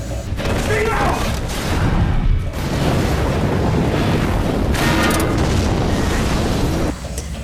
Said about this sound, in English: it's the atomic bomb scene